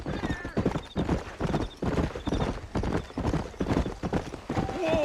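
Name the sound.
horse hooves clip-clopping, ridden in Red Dead Redemption video game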